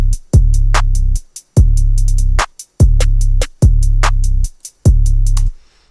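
Deep, booming 808 kick hits repeat in a steady pattern, each with a sharp click and long low tail, alternating with crisp hand claps, in a hip-hop beat made in FL Studio.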